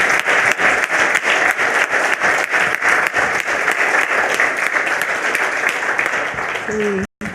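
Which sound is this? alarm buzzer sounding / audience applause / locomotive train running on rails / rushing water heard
audience applause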